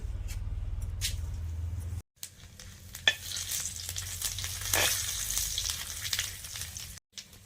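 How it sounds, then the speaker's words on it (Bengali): Whole spices, a bay leaf, a dried chili, cumin seeds and panch phoron, crackle and sizzle in hot oil, a close, steady frying hiss with a sharp burst of spattering midway and a low hum underneath. "একটা তেজপাতা দিয়ে দিচ্ছি একটা শুকনো লঙ্কা দিয়ে দিচ্ছি গোটা জিরা আর পাঁচ ফোড়ন ফোড়ন দিয়ে দিচ্ছি"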